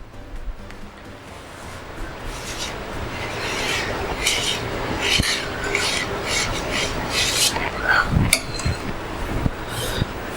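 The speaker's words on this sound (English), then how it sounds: "I'm going to take my offset spatula, keep it like this and smooth it down." An offset spatula smooths frosting on an eggless butterscotch cake, giving a soft continuous scraping rasp with light strokes that grow a little louder toward the end, up close with no talk.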